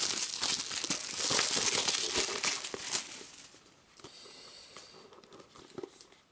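Plastic wrapping crinkles and tears as a Ghostbusters II board game component is unwrapped, loud crackling at first, then quieter rustles and small taps.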